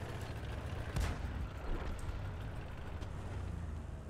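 A Sav m/43 tank destroyer with a 10.5 cm gun fires in World of Tanks: one deep, muffled shot about a second in, followed by a quieter low engine and battlefield rumble. The whole clip is fairly faint, with no speech.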